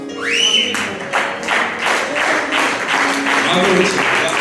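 Congregation applause rings out at a church gathering in Uganda, steady clapping from many hands that swells and continues throughout, with voices calling over it.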